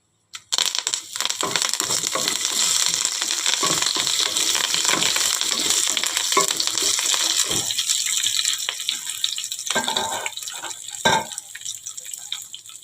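Onion and curry leaves frying in a pan, a loud steady crackling sizzle close up that fades toward the end into scattered pops and spatters.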